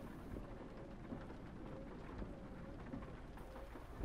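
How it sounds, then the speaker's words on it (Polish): Steady rain patters under a low, distant rumble of thunder, faint and continuous, in the video game Euro Truck Simulator 2. "O, deszcz zaczął u mnie padać."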